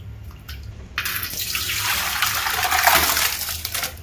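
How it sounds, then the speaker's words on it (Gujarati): Soaked flattened rice (poha) is washed in a large vessel as water pours and churns in a loud, continuous rush, with no voices. "હવે આ પૌવાને ધોઈ નાખીએ આપણે"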